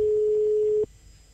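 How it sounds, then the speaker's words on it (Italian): A single steady ringback tone sounds on an outgoing telephone call, loud and continuous for under a second before cutting off abruptly into quiet line hiss. "Sta squillando."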